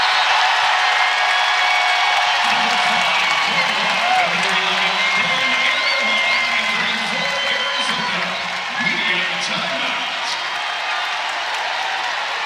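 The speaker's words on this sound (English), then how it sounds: "Crowd loves it." A large crowd in a basketball arena at an NCAA women's tournament game between North Carolina and Arizona roars with sustained cheering and applause, a broad steady wash of noise, while commentators talk over it.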